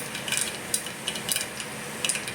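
Cumin and mustard seeds crackle and pop in hot oil in a home kitchen pan, scattered sharp little spits over a soft steady sizzle, close and fairly quiet.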